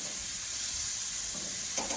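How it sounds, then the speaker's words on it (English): Food sizzles steadily on a Char-Broil infrared grill, a soft, even crackling hiss close by with no talking. "Hear that sizzle."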